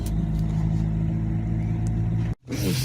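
A car drives along a village road in the Uman district of Cherkasy region, its steady engine and tyre rumble loud and continuous, briefly cutting out near the end before resuming.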